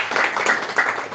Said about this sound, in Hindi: तो ऐसे हमारे अगुओं के सम्मान के लिए जोरदार तालियां।